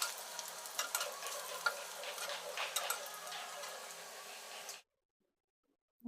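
Onion, garlic and nigella seeds tempering in oil for a papaya, lentil and pumpkin dish, a soft continuous sizzle with light crackles and stirring taps that cuts off abruptly into silence near the end.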